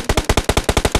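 Automatic gunfire in the mobile battle royale game BGMI (Battlegrounds Mobile India), a rapid burst of about ten evenly spaced, loud, close shots packed into one second.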